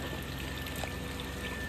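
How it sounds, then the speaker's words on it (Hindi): Water gushing steadily from a garden hose into a kiddie pool outdoors, a dense continuous splashing pour at close range, loud and unbroken, with no voices. "पाइप ऐसे रख दो बस, अभी भर जाएगा पानी"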